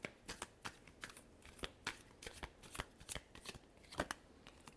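Tarot cards being shuffled by hand in a quick series of soft, crisp riffles and slaps, close and fairly quiet, with no talking.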